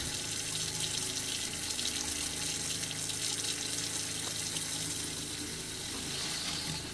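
Steady running water from a faucet in a Thor Vegas RV being winterized, a continuous even hiss as the water lines are flushed, with no talk.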